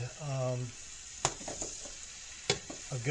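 Chicken cordon bleu browning in a hot pan, a steady sizzle with scattered clicks and two sharp knocks of a utensil, while someone speaks briefly at the start and end.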